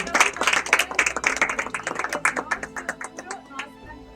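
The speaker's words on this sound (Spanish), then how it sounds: "Fuerte aplauso." A small tour group at a cemetery claps together, a fairly close burst of distinct hand claps that starts dense and gradually thins into slower, separate claps before stopping.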